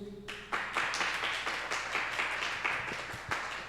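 Church congregation clapping together after a Bible reading, starting abruptly after a moment of quiet, then sustained in rhythmic bursts of hand claps at moderate level through to the end.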